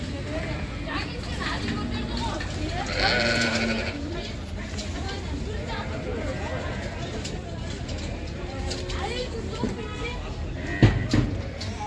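Sheep and lambs bleat repeatedly at a livestock market in Taraz, Jambyl region, their calls rising over a steady babble of people talking and general crowd noise.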